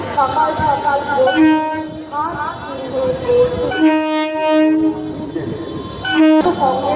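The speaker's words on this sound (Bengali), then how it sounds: "দেখো ট্রেনটা এবার এখন দিয়ে যাবে" A train at a busy railway station platform, heard from a footbridge above, sounds several loud tonal horn blasts over a rumbling passage, with crowd voices around.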